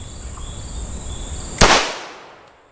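A single sharp 9mm report from a Scorpion Evo 3 S1 pistol with a 7.72 inch barrel, fired at armor, cracks loudly after a quiet stretch and decays quickly into a short echoing tail.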